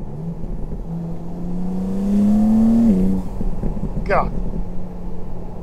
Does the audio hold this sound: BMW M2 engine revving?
yes